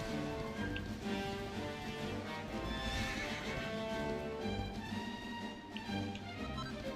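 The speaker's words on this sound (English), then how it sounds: "we're gonna ride the horse" In the Dragon Quest XI video game, a horse neighs over a steady clip-clop of hooves and layered game music, all continuous and evenly loud.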